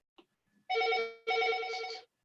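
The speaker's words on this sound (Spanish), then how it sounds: "Ahora ahí está ya el teléfono sonando." An old-style telephone bell rings nearby in two loud bursts separated by a short pause, with a few faint clicks before the first ring.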